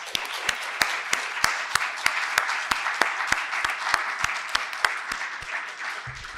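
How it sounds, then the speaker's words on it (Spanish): Applause from an audience for three panelists at a graduate student congress, a steady patter of many hands with a few sharp, louder claps standing out, fading slightly at the end. "Quisiera dar un gran aplauso a nuestras 3 panelistas."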